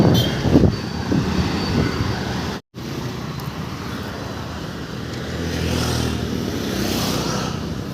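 A vehicle coming the wrong way on a road, a steady engine and tyre roar that swells as it draws near, amid general traffic noise, with no voices.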